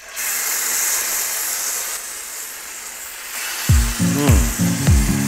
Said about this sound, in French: Alors d'abord je mets un petit coup d'huile d'olive